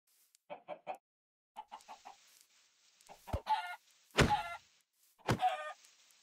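Minecraft chickens clucking in short bursts of quick clucks, close and clear, separated by brief silences, with a few sharp clicks between.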